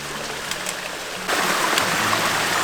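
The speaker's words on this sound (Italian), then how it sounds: "qui dobbiamo attraversare ancora quel torrente" Mountain torrent in the Val Zemola near Erto rushes steadily close by, a broad continuous hiss of flowing water that grows louder partway through.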